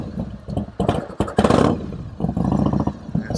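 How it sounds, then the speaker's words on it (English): An old Harley motorcycle cranking and sputtering as it tries to start, loud and close, with uneven bursts of engine clatter and a short rev. "It starts right up."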